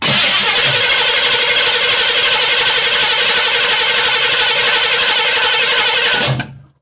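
An engine with a freshly rebuilt Carter AFB carburetor is cranked by a remote starter, a loud, close, steady churning drone that holds for about six seconds, then cuts off abruptly.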